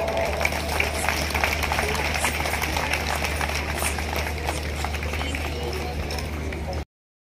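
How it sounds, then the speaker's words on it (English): An audience at a school annual day celebration gives performers a round of applause, a dense, continuous wash of clapping with a low hum beneath it, cutting off abruptly at the end. "Please welcome them with a huge round of applause"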